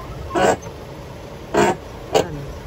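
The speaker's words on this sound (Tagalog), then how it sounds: "Medyo maingay pa yung kanyang pinto." The noisy door of an Isuzu Giga cargo truck gives three short creaks, the last one briefest, close by over a quiet background.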